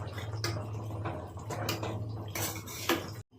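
Spoon clinking and scraping in a pot as beef mappas curry with black pepper powder is mixed, close-up metallic taps and scrapes in an irregular rhythm over a low background hum, ending abruptly.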